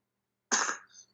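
A single close, loud cough bursts out of silence, with a brief raspy tail trailing off after it.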